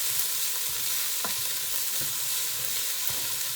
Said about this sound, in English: I've got to fry it now long enough to get rid of the raw smell of garlic